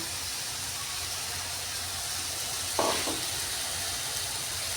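Taro (arbi) with spices roasting in a pan, giving a soft, continuous sizzle and hiss at low level, with a brief stirring scrape partway through.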